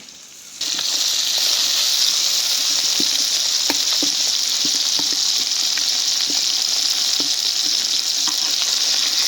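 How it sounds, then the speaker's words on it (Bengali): Tilapia fish frying in hot oil in a home kitchen, a steady bright sizzle starting abruptly after a quiet half-second and holding loud and even throughout, with scattered soft pops and stirring clicks. "মাছ ভাজা হয়ে গেছে, উঠাইনি।"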